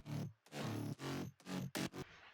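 Aggressive, growly mid bass synth built from several layered gritty bass sounds, hitting in short loud bursts with brief gaps, dense and distorted across the range.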